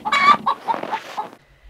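Icelandic hens cluck close up in a quick run of throaty calls lasting just over a second, then fall quiet, with no voices over them.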